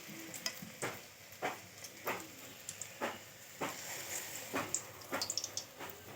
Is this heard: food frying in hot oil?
yes